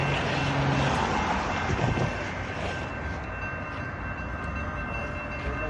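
A northbound freight train hauling rock rolls past a railroad crossing with a continuous heavy rumble and clatter of wagons, a steady tone ringing over the noise as it passes close by.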